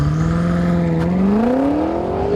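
A BMW M5 in Sport Plus with a torque converter automatic held on the brake at a launch control start, its engine note climbing steadily in a loud, sustained rev, close up and alone.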